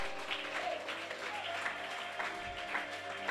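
Church congregation applauding during a worship service, a steady wash of clapping from many hands with faint overlapping voices beneath, sustained throughout.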